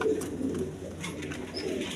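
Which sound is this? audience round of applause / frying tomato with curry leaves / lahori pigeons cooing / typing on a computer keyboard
lahori pigeons cooing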